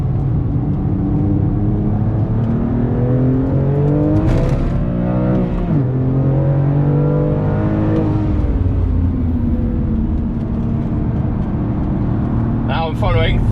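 Several BMW E46 M3s with aero kits drive ahead on the road, their engines droning and rising in pitch as they accelerate, heard from a following car over steady road noise while someone talks.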